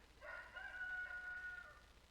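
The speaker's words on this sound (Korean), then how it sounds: "닭 소리를 집어넣는데" A rooster crows once in a single stretched cock-a-doodle-doo lasting over a second, faint and alone against a quiet backdrop.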